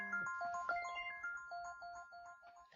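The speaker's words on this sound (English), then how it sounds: "And that was my phone." A mobile phone plays a bright electronic melody ringtone, with repeated chiming notes sounding clearly in an otherwise quiet room before it fades.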